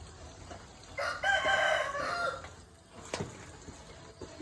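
At a countryside house, a rooster lets out a single crow of moderate volume, followed by softer clucks and faint background sounds.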